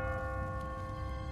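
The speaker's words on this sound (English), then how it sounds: "What kind of church bell goes off at 20 past the hour?" A church bell tolls in The Walking Dead Telltale game, its sustained ringing tone hanging steadily over a low background rumble, quiet and alone.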